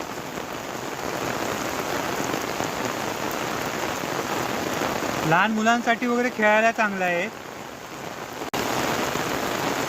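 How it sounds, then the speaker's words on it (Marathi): Heavy monsoon rain in the Konkan hisses steadily on surfaces throughout; partway through a person speaks briefly over the intensifying downpour. "पावसाचा जोर परत वाढला आहे"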